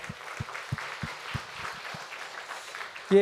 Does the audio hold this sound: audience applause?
yes